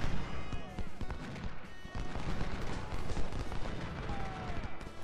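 Cannon and musket fire in the Civil War strategy game Ultimate General, with dense overlapping bangs and crackling volleys forming a continuous loud battle din.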